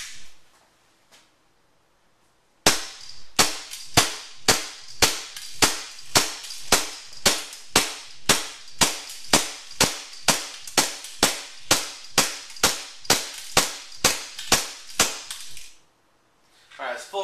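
A WE G17 Tactical airsoft pistol fires plastic BBs downrange in a steady string of about thirty sharp, loud cracks, evenly spaced and close by, after a quiet opening.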